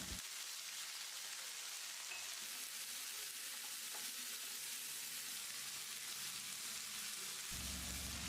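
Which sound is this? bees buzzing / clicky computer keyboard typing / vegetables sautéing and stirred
vegetables sautéing and stirred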